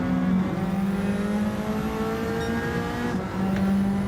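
A Bugatti Veyron racing in Gran Turismo 7 gives a loud, steady engine drone that holds a high pitch, dips briefly and then climbs again as the car accelerates, with no talk over it.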